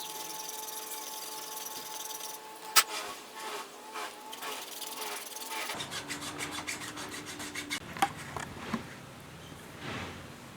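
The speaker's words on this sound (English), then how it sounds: "I need to file this out a little bit more" A file rasps against a knife blade for a modern tanto in the workshop, steady close scraping strokes with a few sharp knocks, rougher and busier in the second half.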